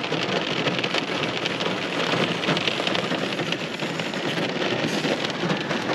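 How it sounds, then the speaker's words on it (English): Heavy rain pours down steadily during a wet spring beekeeping outing, heard from inside a truck as a dense, continuous hiss and patter on the roof at a constant loud level, with no talk. "Pouring down with rain."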